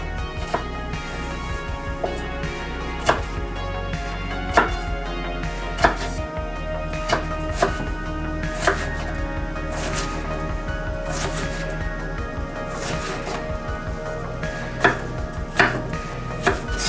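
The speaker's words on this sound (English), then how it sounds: "Now you're going to want to cut up all your vegetables into cubes." A knife chops vegetables into cubes on a cutting board for shrimp tacos, steady sharp taps in quick uneven runs, close and clear with no talk.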